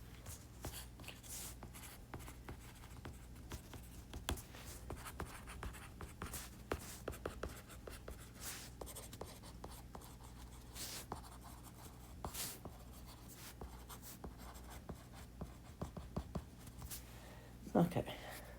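A pen scratches across paper up close in quick irregular strokes and taps, continuous throughout while working through a math problem, with a brief murmur of voice near the end.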